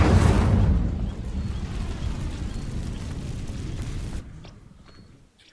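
Incendio fire spell in Hogwarts Legacy setting dry vines alight: a loud burst opens into a steady, roaring whoosh of flame that holds for about four seconds, then drops away sharply to a faint tail.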